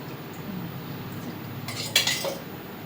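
A metal spoon clinks against a cooking pot during preparation of egg biryani, one bright clink near the end standing out over quiet kitchen background.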